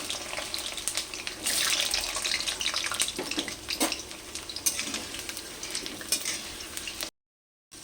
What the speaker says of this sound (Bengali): তেলের মধ্যে এবার ওই আলুগুলোকে দিয়ে ভেজে তুলে নেবো